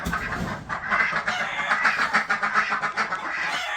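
Ducks quacking on a farm, a busy, fairly close run of repeated quacks and calls alongside other poultry, without any talk.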